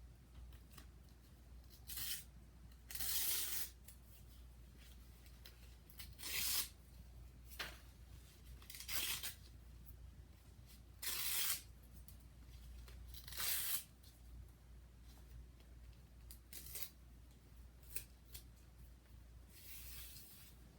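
Fabric edges for stacking bowls are torn off by hand in short, sharp ripping bursts spaced a few seconds apart, quiet and close over a low steady background hum.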